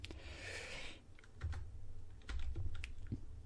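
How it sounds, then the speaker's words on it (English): Someone types on a computer keyboard in a quick, irregular patter of soft clicks, close and fairly quiet over a steady low hum, with a brief hiss at the start. "We'll try typing it in to see if we can do it."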